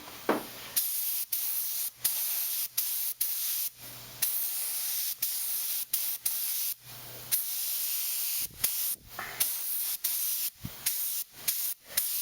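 Short bursts of high-pressure airbrush spray hiss in and out while painting a 1/1400 scale model, a dozen or so sharp on-off blasts, close and fairly loud, no talking.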